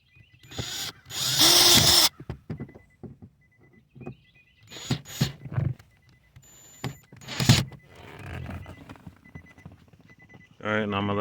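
Power drill driving small screws back into a Nissan/Infiniti car seat console during airbag module replacement, in short bursts of whirring between pauses, with someone talking nearby.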